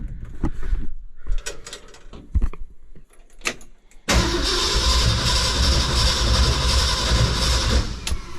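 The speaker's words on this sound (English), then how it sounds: "Let's see if it'll start up." A ranch truck fitted with a new carburetor, already warm from a drive, is cranked over, catches, and settles into a loud, steady close-up idle after a few seconds of clicks and rattles.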